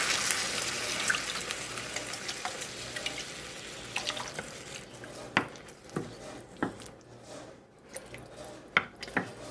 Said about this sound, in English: And some water, a little less than I added of tomatoes.